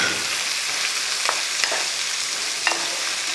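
Finely chopped onions sauteing in a pan for a Kerala soya chunks curry, with a continuous hiss and a few distinct spoon scrapes as they are stirred, close up with no voices.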